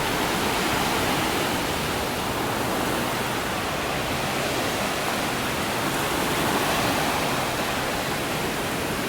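Steady, loud wash of ocean surf on a Seychelles beach with turquoise water and mountains behind, a continuous broadband roar with no distinct breaks between waves and no voices.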